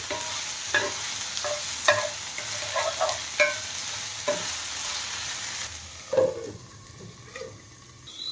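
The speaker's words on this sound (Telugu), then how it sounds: "ఆ చికెన్ ముక్కల్ని ఇందులో వేసుకొని వేయించుకోవాలి ఆ నూనెలో వేయింపాలి" Chicken pieces fry in hot oil with a steady sizzle, while a spoon repeatedly scrapes and stirs the pan in clustered knocks.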